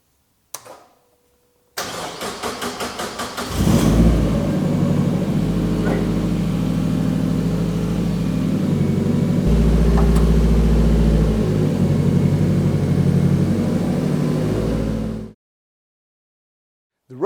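A Tipo 184 kit car engine cranks and catches, then settles into a loud, steady running note that holds for over ten seconds as it pulls away, before cutting off abruptly.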